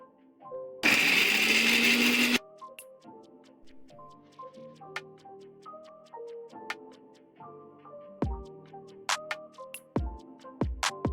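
An electric kitchen blender whirs loudly for about two seconds grinding three chopped tomatoes into a paste for chicken gravy, then cuts off, followed by scattered clicks, taps and clinks of kitchen utensils.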